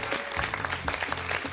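An audience claps in continuous, dense applause for a short burst, close and steady, with no voices over it.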